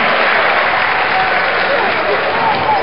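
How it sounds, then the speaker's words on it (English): A football stadium crowd cheers and applauds for the home defense at a college game between VMI and Wofford, a dense, steady roar of clapping and shouting from start to finish. "the crowd is up for the defense for the Terriers"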